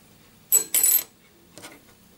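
A Tusq synthetic guitar saddle dropped onto a hard surface: a bright double clatter as it lands and bounces, followed by a softer third tap, close and alone.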